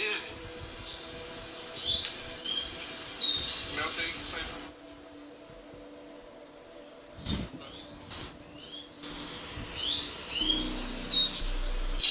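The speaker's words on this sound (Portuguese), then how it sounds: "É o sanhaço aqui de casa aqui." A sayaca tanager (sanhaço) sings at a home, bright high chirping phrases repeating close by, pausing midway then resuming, with faint background murmur.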